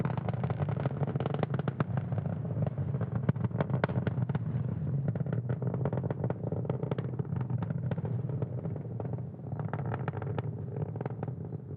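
A SpaceX Falcon 9 rocket climbing toward max Q during the Turksat 6A launch, its engines giving a steady, loud, crackling roar that continues without pause throughout.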